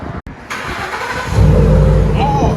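Ford F-150 pickup with a 5.0L Coyote V8, running 3-inch to 2 1/4-inch exhaust with 2 1/4 tailpipes into 3-inch tips, idling then revving up loud and close, a deep rumble swelling after a brief quiet gap.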